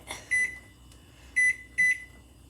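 A microwave oven with marshmallows inside hums quietly and steadily, broken by three loud, close electronic beeps, one short beep followed a second later by two more in quick succession, with no talking.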